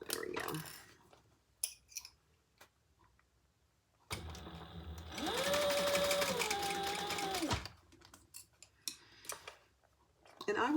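A sewing machine stitches a seam on a crossbody bag in a steady motor whir of about three seconds, with quiet handling clicks before and after and a little talk around it.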